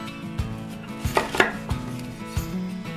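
A knife cutting a pomegranate into quarters on a board, four or five distinct thuds spaced about half a second apart, close and crisp, with no talk.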